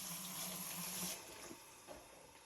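Running tap water rinses sea moss in a sink, a brief, soft, steady splashing stream that fades slightly near the end, with no talk.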